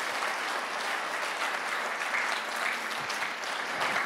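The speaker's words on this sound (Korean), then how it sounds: "세계 복음화할 하나님께 영광의 박수를 보냅시다." A church congregation at an evangelism rally in the Philippines claps together to give glory to God, a dense, even roar of applause filling the room with no speech over it.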